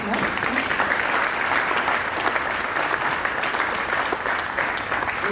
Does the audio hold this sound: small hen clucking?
no